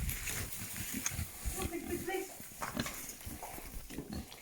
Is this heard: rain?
no